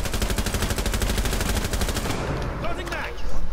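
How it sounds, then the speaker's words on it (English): Rapid, dense automatic gunfire from a multiplayer shooter video game, loud and sustained for about two seconds, then breaking off into scattered shots and game noise. "I shot the life out of somebody"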